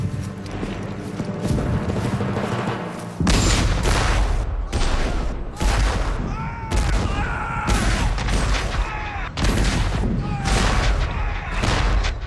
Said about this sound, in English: 150 Confederate cannons open fire. The largest artillery barrage in the history of the Western Hemisphere.